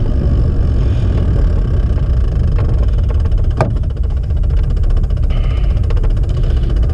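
A car passes on a night road beside a velomobile, a brief swelling engine and tyre whoosh rising over constant loud road and wind rumble from the moving pedal vehicle.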